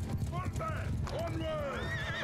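Horses neigh and whinny loudly in the Mount & Blade II: Bannerlord video game as horse archers ride, over a steady rumble of hooves and battle noise, with calls layered through the short stretch.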